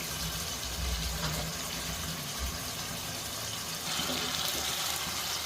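Water pours into a pan of spiced golsha and tengra fish curry, a steady hissing splash lasting several seconds with a faint low rumble beneath.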